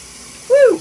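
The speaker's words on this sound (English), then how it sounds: "Now let me get my chickeny hands washed" Hot tap water starts running into a sink for hand washing, a sudden close gush that swells and tapers in under half a second after near silence.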